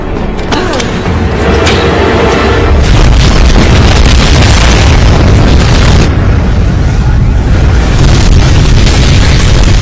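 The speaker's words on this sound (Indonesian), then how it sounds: "ledakan yang sangat dahsyat" A huge film explosion booms with a loud, dense roar that fills the whole stretch, followed by rumbling debris and crackling bursts. It stays forceful and close throughout with no letup.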